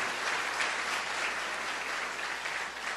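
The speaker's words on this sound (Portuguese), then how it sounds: "Se você crê nisso, aplauda ao Senhor" Church congregation applauding at a sermon, a steady dense wash of clapping that holds evenly for the whole stretch, fairly soft and heard without talk over it.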